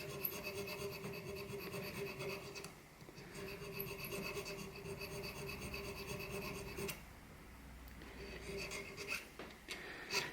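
A small needle file rasps steadily against the end of a homemade metal tool, a fine close scratchy scraping in even strokes with a few brief pauses and a couple of sharper clicks. No voices are heard.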